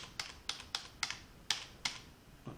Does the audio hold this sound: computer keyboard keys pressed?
yes